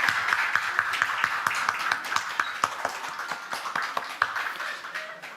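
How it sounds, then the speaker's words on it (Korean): A church congregation applauds in warm welcome and congratulation during a Korean Protestant service, a dense, steady round of clapping lasting throughout with scattered louder claps. "돌아서서 인사하고 돌아가실 때 환영의 박수, 축하의 박수 드리겠습니다."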